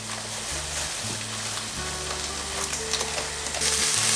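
Minced meat with garlic and oregano browns in a pan for budget cannelloni, giving a steady close sizzle with a low hum beneath and light stirring scrapes, and no one speaking.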